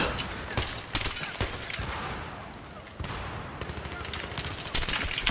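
Battlefield 3 video game gunfire crackles in rapid automatic bursts with scattered distant shots and explosions, loud and continuous throughout a multiplayer match.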